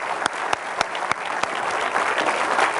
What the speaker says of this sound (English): let's have a big hand for Garrett.